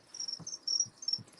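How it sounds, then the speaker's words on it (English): Crickets chirp in a reptile room housing a ball python, a steady high trill repeating in close, fairly loud bursts with no talk over it. "You can hear the crickets, right? Yeah, they make lots of noise."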